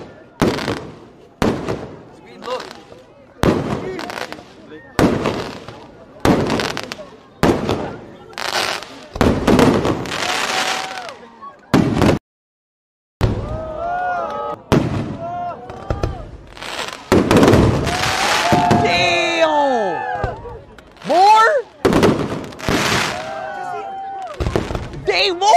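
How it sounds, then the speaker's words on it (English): New Year's fireworks bursting repeatedly in Cebu, Philippines, sharp loud bangs and crackling explosions in quick irregular succession, with whistling shells and a few shouting voices mixed in. "How long are these fireworks?"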